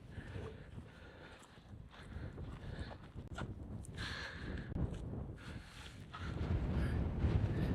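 Gusty wind buffeting the microphone on an exposed rocky hilltop at the Roaches, low rumbling roar rising and falling in bursts and strengthening toward the end.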